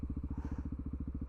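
A 2024 KTM 690 SMC R motorcycle engine runs close by with a loud, rapid, evenly pulsing beat that stays steady throughout.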